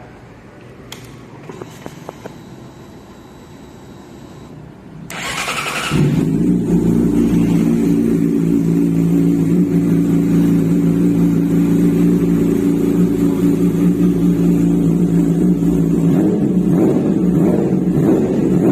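A Yamaha YZF-R6 super sport motorcycle engine fires up after a few seconds and settles into a loud, steady run, with some revving toward the end.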